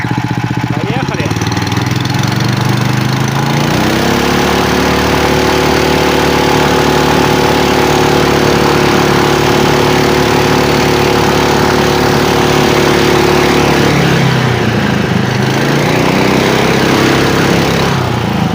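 A Buran snowmobile fitted with a Lifan engine rides on a frozen river, its motor droning loud and close, rising in pitch as it speeds up, holding a steady roar, then dipping and revving again.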